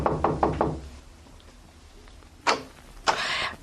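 Knuckles rap rapidly on a door four times, loud and close, followed by a quiet pause, then two more separate sharp knocks.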